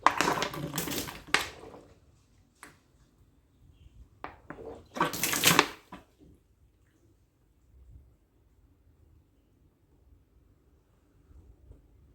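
Bursts of splashing, pouring water drain from a leaking air conditioner in uneven spurts, loudest early and again midway, separated by quiet gaps with faint background noise.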